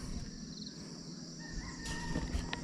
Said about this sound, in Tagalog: May narinig ako mga manok